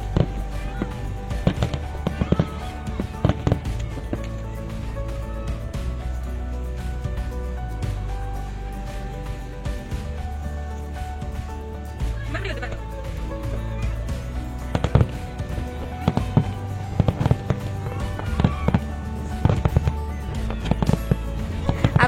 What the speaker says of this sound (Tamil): ஃபயர் ஒர்க்ஸ்லாம் பார்த்தாச்சு